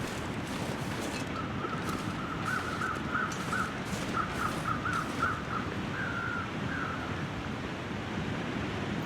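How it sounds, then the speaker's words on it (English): Crows in the video game The Long Dark caw repeatedly in short bursts over a steady rush of wind, sounding somewhat distant. "Crows. That means there must be a body nearby."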